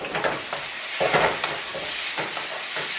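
Shrimp seasoned with black pepper fry in a hot pan, a steady close sizzle broken by repeated scraping stirs of a spatula.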